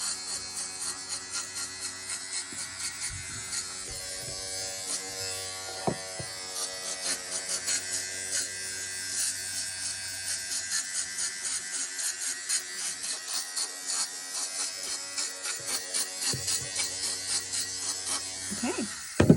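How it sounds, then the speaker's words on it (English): A battery-powered fabric defuzzer buzzes steadily as it skims the yarn loops of a Cabbage Patch Kid doll, its motor whine wavering as if the battery is running low, close up with no speech. "I think my defuzzer's running out."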